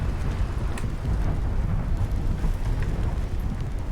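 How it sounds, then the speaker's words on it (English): Thunder rumbles in Subnautica Below Zero during a meteor shower, a steady low broadband roar with rain-like hiss that holds loud and even throughout, with no voices. "I heard thunder, but I don't see any clouds."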